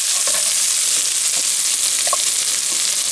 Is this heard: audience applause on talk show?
no